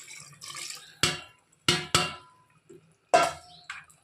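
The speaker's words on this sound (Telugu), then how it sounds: "ఈ గిన్నెను మొత్తం కడిగేసుకొని ఇలా వేసేసుకోవాలి" A steel cooking bowl is rinsed out with water into a basin while making mutton curry, a handful of sharp splashes and clanks in irregular bursts separated by brief quiet gaps, nearby and without talking.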